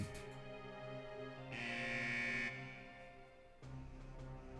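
Alarm in the video game Sakura Wars 5, a loud sustained buzzing tone lasting about a second that rises out of layered game music and effects.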